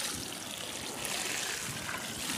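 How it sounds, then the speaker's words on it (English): A gallon of water pours steadily into homemade seed-starting mix, a continuous soft splashing and trickling rush that stays even throughout, close by and moderately quiet. "So I'm just gonna pour in 1 gallon's worth. That will soak all the way throughout the medium"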